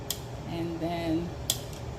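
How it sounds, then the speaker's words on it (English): Metal utensils scraping and clinking against a bowl while seafood pasta salad with shrimp and crab meat is mixed, with a couple of sharp close clinks and a faint ringing scrape between them. "you want to mix it all up together here"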